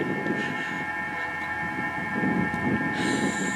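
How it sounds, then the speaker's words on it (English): A Toyota bZ4X electric crossover in park, its electric motor engaging with a steady high-pitched whine humming continuously under a low rumbling drone, with a brighter tone rising near the end. "I think it's the electric motor engaging."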